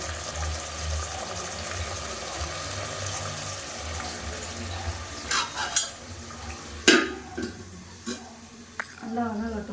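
Tomatoes stirred and sautéed in a pan, with soft sizzling and scraping stir strokes, a few sharper clinks of the utensil toward the end, while people talk nearby.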